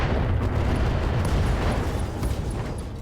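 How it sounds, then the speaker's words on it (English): AC-20 ammo explosion in the mech video game RogueTech, a heavy rumbling blast with dense low booming and crackle that rolls on for about three seconds, loud and alone without talk. "AC-20 ammo explosion there."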